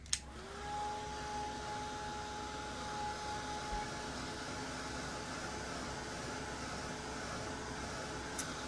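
A hair dryer blows steadily, drying Mod Podge on a leopard print fabric craft project, giving a constant whirring hum with a faint tone, bracketed by a click at the start and end.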